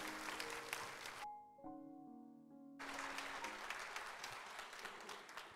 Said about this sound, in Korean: 축하 박수 보내주세요